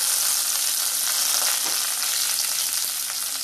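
Curry leaves fry in hot oil for lemon pickle, making a steady, loud, close sizzle with faint stirring underneath and no voices.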